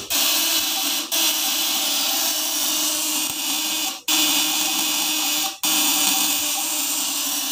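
A 1000 W electric fish stunner's contact breaker buzzing, a loud steady electrical drone close up, broken by a few brief dropouts.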